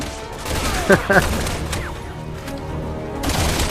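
Sniper rifle fire in Resident Evil 6 on PS3: a couple of sharp reports over a dense, noisy game soundscape of combat and ambience, with no clear isolated shot.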